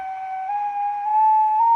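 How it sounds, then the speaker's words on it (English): A handmade clay whistle, or ocarina, blown in one steady, pure sustained tone that rises slightly in pitch toward the end, close and clear with no other sound. "how to make a whistle. You can also call it an ocarina"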